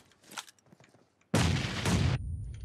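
A grenade goes off in PUBG Mobile, one sudden loud blast that rolls on for under a second after faint scattered game noise.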